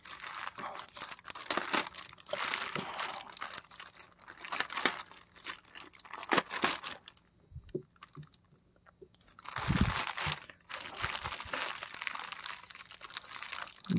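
Plastic packaging of a Dragon Ball Ginyu Force figure being opened, with repeated loud crinkling and crunching of the wrapping up close, a short quiet pause midway, then more rustling.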